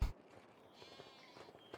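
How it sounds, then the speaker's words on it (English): Sheep bleating faintly in Farming Simulator 25, in a game farm enclosure of wool-producing sheep, with a few soft, brief bleats spread across a quiet background. "We've also got the sheep, which are currently producing wool"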